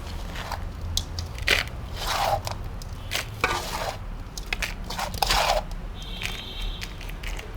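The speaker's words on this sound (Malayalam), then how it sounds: "ഇനി നമുക്ക് മണ്ണ് നിറച്ച് കൊടുക്കാം." Potting soil scooped and poured into a plant pot over a gravel base for a baby tears plant, giving a run of close, gritty crunches, scrapes and soft thuds in an irregular rhythm, with no talk.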